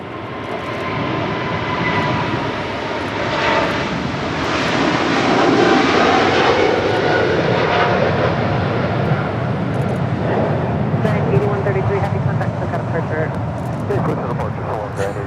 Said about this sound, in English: That was Atlas Air 8133 departing to Seoul on the 747-8 freighter.